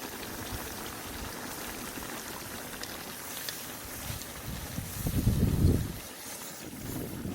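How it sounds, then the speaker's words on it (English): Continuous bubbling and rumbling of water boiling in a kettle, steady throughout with a brief louder surge of churning near the end; no voices. "It's really boiling pretty good."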